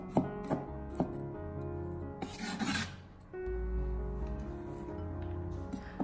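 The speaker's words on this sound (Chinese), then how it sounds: "然后再准备4到5颗大蒜，同样的将它改刀切成薄片。" A kitchen knife cuts garlic cloves into thin slices on a cutting board, sending out a series of crisp, close chopping taps at an irregular pace.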